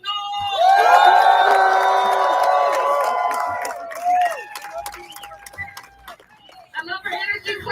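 A crowd at a Juneteenth gathering erupts in loud cheering, shouts and whoops that swell and then fade, followed by scattered voices and renewed bursts of excitement.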